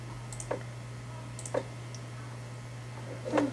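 Computer mouse clicks while working in Photoshop, three sparse, fairly faint clicks spaced about a second apart over a steady background hum, with no voice.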